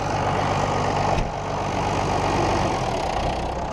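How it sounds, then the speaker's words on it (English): A tractor engine runs steadily at high idle on a farm, a loud, continuous low rumble and drone close by, with no talk over it and only a slight dip in level partway through. "I'll back the throttle because she's running at a high idle"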